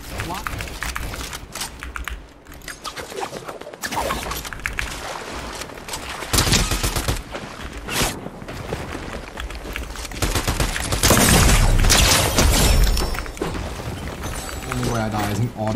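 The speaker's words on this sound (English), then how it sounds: "Auto shotgun jumping in my box." Auto shotgun blasts in Fortnite, with repeated loud booming shots through a busy mix of game noise, keyboard clatter and a voice talking over it.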